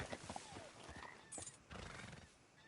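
A horse whinnies and snorts in Red Dead Redemption 2, short agitated neighs mixed with hoof and tack noise, fairly close amid game ambience.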